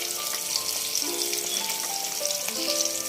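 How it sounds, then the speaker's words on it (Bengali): Fish rubbed with salt and turmeric frying in a wok, giving a loud, steady sizzle and crackle throughout, with faint scraping or ringing clinks from utensils against the pan and no speech. "এবার কড়াইয়ের মধ্যে আমি মাছগুলোকে ছেড়ে দিয়েছি"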